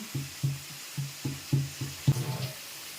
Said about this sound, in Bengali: এবার নুন হলুদ দেওয়ার পরে নাড়া দিয়ে নেব কিছুক্ষণ।